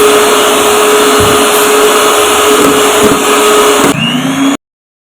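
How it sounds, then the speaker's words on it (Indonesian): An electric mixer runs at its highest speed whipping egg whites for meringue, a loud steady motor whine that holds evenly, then shifts pitch briefly before stopping abruptly. "Lalu ini di mixer dengan kecepatan yang paling tinggi hingga kental berjejak."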